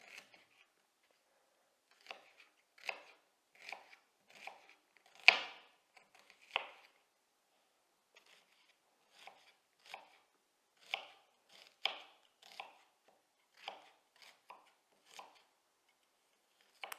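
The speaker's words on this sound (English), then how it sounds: "I'm just going to be cutting up these onions like so" Onions are cut with a knife in a series of crisp, close chopping strikes, arriving in short irregular bursts with brief pauses in a quiet kitchen.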